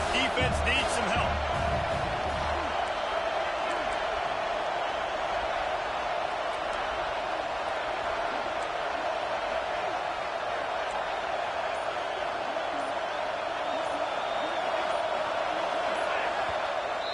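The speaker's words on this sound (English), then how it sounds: "This crowd rising up, sensing that its defense needs some help." A football stadium crowd holds a broad, steady roar that swells and stays loud throughout, a constant wall of massed voices.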